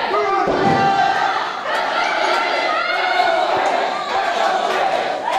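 A wrestling crowd at a live main-event match cheers loudly and steadily, a dense roar of voices with shouts rising over it throughout.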